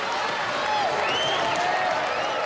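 A Robot Wars arena crowd cheering and applauding as a competitor pumps them up, a dense, loud, continuous roar of clapping and shouting with a few whistles rising above it.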